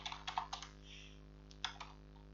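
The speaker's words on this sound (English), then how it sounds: "let me type in here" Keystrokes on a computer keyboard while entering a MAC address, a few quick clicks in short bursts with pauses, close and fairly quiet against a steady hum.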